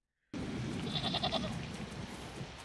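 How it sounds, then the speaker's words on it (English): Goats bleating after a brief silence, several quavering calls clustered together over a steady background, moderately faint. "The goats."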